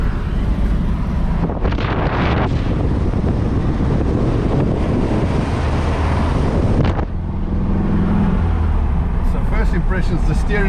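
A 1964 VW Beetle drives on the road with loose steering, heard from inside as a loud steady engine and road roar mixed with heavy wind buffeting, while a person talks over it.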